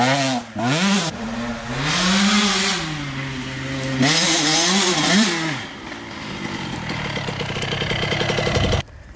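A KTM 85 two-stroke motocross bike engine revs up and down loudly at close range, its pitch rising and falling repeatedly, then settles into a buzzing, rattly idle before cutting off abruptly.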